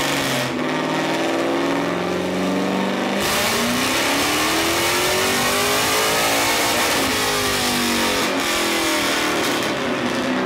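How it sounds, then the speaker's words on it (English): A turbocharged LS V8 swapped into a Mazda Miata revs hard on a dyno. It is loud and close throughout, with a rising, sweeping engine pull and a roaring, raspy wide-open note. "it was time to take the car to the dyno"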